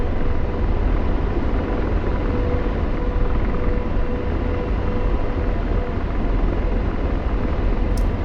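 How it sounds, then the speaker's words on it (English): Two AH-64 Apache helicopters in the DCS combat flight simulator fly past a boat at sea, giving a steady, loud rotor and engine roar that holds evenly throughout with no talking. "flying right past you on a boat are two freaking Apache helicopters"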